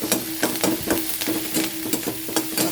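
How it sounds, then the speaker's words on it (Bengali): Onions and dried red chillies frying in a little oil in a pan, a steady sizzle broken by repeated scraping stirs at a regular pace, close and fairly loud, with no voices. "পেঁয়াজটা এরকম ভাজা হতে হতে আমি দিয়ে দিলাম আলুটা।"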